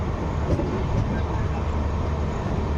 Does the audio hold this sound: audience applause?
no